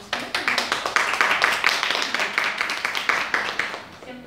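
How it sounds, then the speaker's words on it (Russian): An audience applauds to welcome a speaker at a CreativeMornings talk, a modest group clapping in a quick, fairly even rhythm for a few seconds, close and lively. "Давайте поприветствуем ее аплодисментами"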